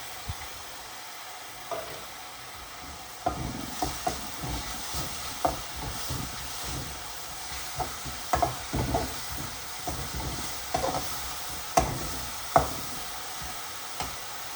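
Ginger and garlic frying with onions in a pan, a quiet continuous sizzle punctuated by repeated irregular stirring scrapes and taps of a utensil, close up.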